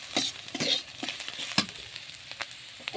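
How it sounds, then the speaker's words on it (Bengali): Onion, garlic and green chillies fry in a pan with a soft sizzle. A utensil stirs and scrapes them in irregular close strokes, fairly quiet and with no talk. "দেখুন পেঁয়াজ রসুনটা লাল লাল করে ভেজে নিয়েছি।"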